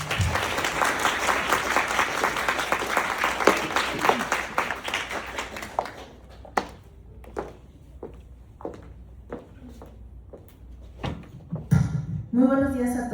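Audience at a university Brain Week academic event claps for an introduced faculty administrator, steady applause for several seconds that thins into scattered separate claps before a voice returns.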